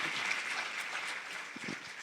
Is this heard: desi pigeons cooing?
no